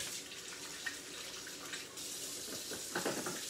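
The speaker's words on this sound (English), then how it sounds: "I'm just washing my hands real quick." A kitchen tap runs steadily while hands are washed under it, a continuous hiss of water with soft splashing that grows a little busier near the end.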